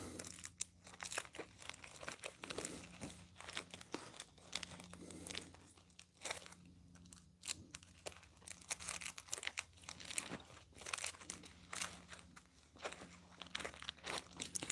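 Playing cards being shuffled by hand, a run of crisp riffling and papery crinkling bursts that come in irregular clusters throughout, close and fairly quiet over a steady low hum.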